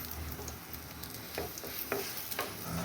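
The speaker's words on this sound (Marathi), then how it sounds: "आता एका तव्यावर ना थोडंसं तेल टाकून घ्यायचं आहे आणि याला आपल्याला दोन्ही बाजूने शेकून घ्यायचं आहे" Leftover chapati shallow-frying in a little oil on a tawa, a soft steady sizzle with occasional scraping and stirring clicks, close and fairly quiet with no talk.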